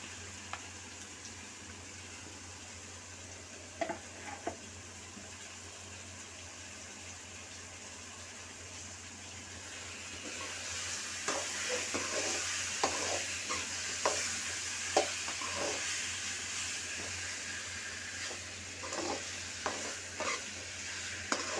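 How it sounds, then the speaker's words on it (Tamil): Quail in masala sautéing in a pan, with a soft steady sizzle and irregular scraping strokes of a stirring spoon that get busier partway through, close and fairly quiet, with no talking. "இது நல்லா கொஞ்சம் இந்த மசாலாலாம் உள்ளே ஏறுற மாதிரி நல்லா கொஞ்சம் வதக்கணும்"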